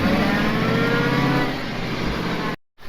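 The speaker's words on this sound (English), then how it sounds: "see how your back end's spinning and digging in" A truck engine revs hard while its rear wheels spin and dig into the ground in a wilderness setting, a loud continuous roar that eases slightly before cutting out abruptly near the end.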